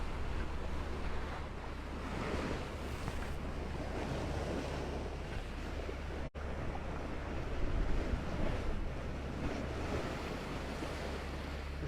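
Steady wind rush and breaking waves aboard a sailboat on a beam reach in the English Channel, a continuous loud wash of water and gusting air with no voices.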